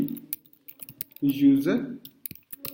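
Scattered keystrokes of code being typed on a computer keyboard click close and soft, a handful of taps in an uneven rhythm, with a voice speaking briefly in the middle.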